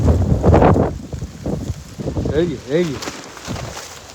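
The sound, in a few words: strong storm wind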